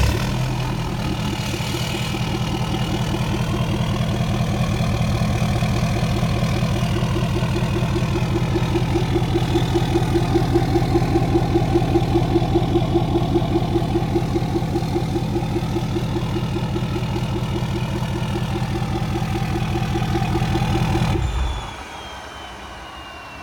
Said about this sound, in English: Go ahead and start it for you guys.